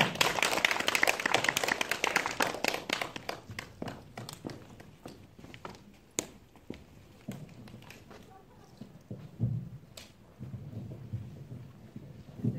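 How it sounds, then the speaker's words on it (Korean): An audience at a film festival screening talk applauds and cheers as directors and actors are welcomed, clapping loudest at first and thinning out, with talk in the background. "다시 한번 환호의 박수 부탁드립니다."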